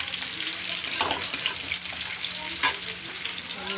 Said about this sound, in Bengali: মটরশুঁটি আলু দিয়ে দিলাম। আর এখানে পেঁপে আলু তরকারি হচ্ছে।